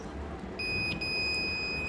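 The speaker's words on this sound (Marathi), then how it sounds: "तर ते त्यांनी डिटेक्ट केलं आणि इथे बझर वाजला" An electronic buzzer on a landslide detector sounds when its soil moisture sensor detects water, starting partway in as a steady, piercing high-pitched tone over background room noise.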